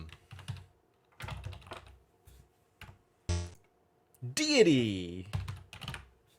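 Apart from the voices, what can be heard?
typing words on a computer keyboard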